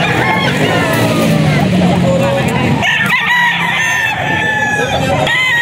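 A rooster at a farm breeder crows loudly and close by in a drawn-out call, while someone talks over it and farmyard background noise carries on throughout.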